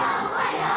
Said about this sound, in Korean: 어린아이들의 환호 속에 정상회담에 들어갔습니다